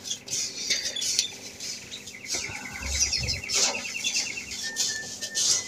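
Bird seed blend of alpiste canary grass seed and white perilla being stirred in a small bucket, a continuous gritty rattling and clinking of grains tossed against the container, close and busy.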